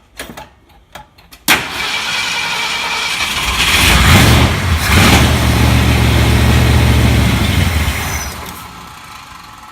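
A 1975 Ford F150 truck engine, fed gas after sitting, catches after a few brief cranking bursts and roars into a loud, rough idle with revving that holds for several seconds before easing off.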